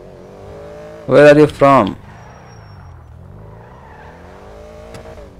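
Cars racing online in Grand Theft Auto V, heard as a low engine drone that rises and falls steadily, with a voice speaking briefly over it.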